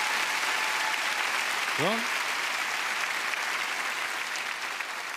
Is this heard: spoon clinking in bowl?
no